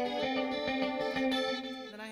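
An electric guitar plays a clean tone through a pedalboard of effects, with shimmering chorus-like sustained chords ringing steadily and fairly loud, without any talk.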